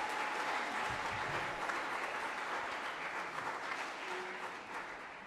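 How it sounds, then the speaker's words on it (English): A church audience at a university hymns night service applauds the choir, with dense, sustained clapping that fills the space, steady and loud throughout and easing off slightly toward the end. "Let's give it up for the choir once more."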